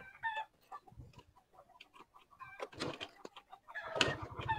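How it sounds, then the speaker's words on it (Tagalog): Chickens cluck and squawk outdoors in Amadeo, Cavite, in uneven bursts of fairly faint calls that grow busier and louder toward the end. "nandyan yung manok natin na kakatayin"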